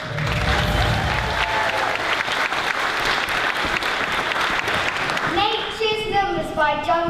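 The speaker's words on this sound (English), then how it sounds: "Give them a big round of applause." Audience at a school book festival final applauds a school team, loud sustained clapping that tapers off as a voice begins speaking at the end.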